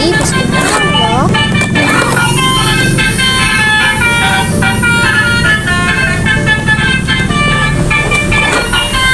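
A toy Telolet bus horn plays the melodic Basuri tune, loud and continuous, with repeating musical notes throughout and some voices in the background.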